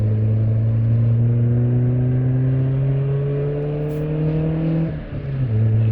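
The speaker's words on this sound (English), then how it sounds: "It accelerates smoothly through the gears." A 28-year-old Honda Civic with a 98-horsepower engine accelerates through the gears onto a 70 mph interstate. The engine hum climbs steadily in pitch, drops briefly at a gear change near the end, then picks up again, close and continuous.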